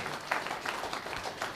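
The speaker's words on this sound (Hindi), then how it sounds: "तो एक बार आप लोगों के लिए ताली जरूर होनी चाहिए दोस्तों" A meeting audience claps together after being urged to applaud, a brief burst of scattered, moderately loud handclaps that stays fairly even for a second and a half.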